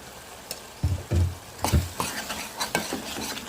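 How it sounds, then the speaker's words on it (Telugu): A spoon stirs chili powder into a curry frying in a pan, with several scraping strokes and soft clatters over a faint sizzle, close and fairly quiet. "కారం వేసి తిప్పుకుందాం"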